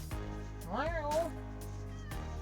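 A pet cat meows twice in quick succession, close and clear, its rising and falling cries standing out over a steady low engine-like hum inside a camper.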